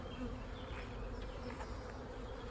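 Honeybees buzz as a dense, steady drone from an open hive, fairly faint and continuous throughout with no talking.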